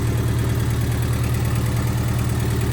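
A Honda D16Z6 engine in a swapped EF hatchback idles through a Temu aftermarket exhaust, a steady, close low rumble with a fast, even tapping pulse running through it.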